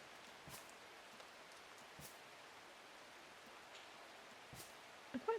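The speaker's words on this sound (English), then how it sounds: "the rain sound is actually quite nice" Soft, steady rain from the video game Strange Horticulture falls as a continuous gentle hiss, with a few faint drip-like ticks scattered through.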